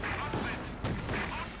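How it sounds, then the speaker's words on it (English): Gunfire aimed at an anti-tank gun during a Company of Heroes 2 1v1 match, a dense wash of battle shots and bursts that runs steadily for the whole stretch, with a few sharper cracks standing out. "Shooting there at the anti-tank gun"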